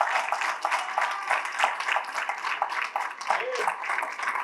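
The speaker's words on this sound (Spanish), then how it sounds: "regálele un aplauso al Señor." Church congregation applauding the Lord at a Spanish-language sermon; a dense, continuous patter of many hands runs steadily through the stretch at moderate loudness, with cheering voices mixed in.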